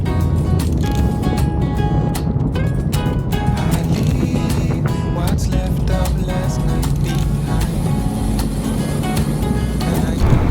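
Steady, loud engine roar and wind rush from a Triumph Trident motorcycle ridden in Hawaii, continuous with slight shifts that suggest gear changes, and no clear talk over it.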